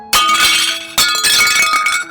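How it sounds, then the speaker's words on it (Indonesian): Breakable glassware falling and clinking, two bright crashing bursts with ringing, rattling tails, loud and close with no voices. "dikagetkan oleh suara gemerincing benda pecah belah yang jatuh"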